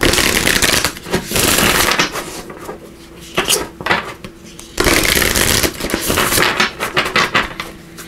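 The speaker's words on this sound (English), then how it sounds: "So let me just shuffle these up here." Tarot cards being shuffled by hand in long, rustling, papery bursts, close up, with brief pauses between shuffles.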